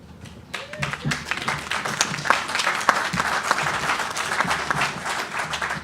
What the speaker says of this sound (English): I even get applause